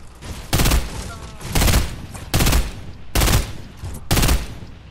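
Three-round burst rifle fire in Fortnite, heard as five loud, evenly spaced bursts, each a quick cluster of close shots with brief pauses between.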